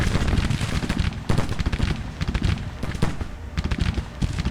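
Cannon and musket fire from Washington Artillery Battery A in the Civil War strategy game Grand Tactician, dense rumbling volleys and booms overlapping continuously in a loud, chaotic battlefield mix.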